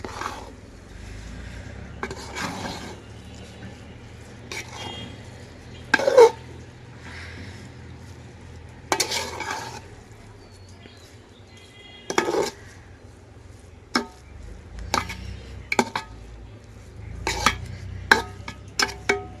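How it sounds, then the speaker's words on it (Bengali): Beef bhuna khichuri being stirred and mixed in a pot, with intermittent scraping clinks of a spoon against the metal rim spaced irregularly over a low, steady background hiss. "এই যে এই পর্যায়ে আবার হচ্ছে নেড়েচেড়ে মিশিয়ে নিচ্ছি"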